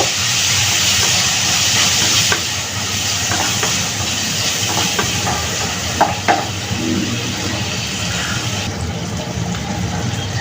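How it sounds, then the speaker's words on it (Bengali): Small shrimp frying in a pan make a steady, broad hiss of oil, close and continuous, with a few faint clicks of the pan or utensil. "এখন দিয়ে দিচ্ছি ধুয়ে রাখা মাছ। দিয়ে একটু ভেজে নিব।"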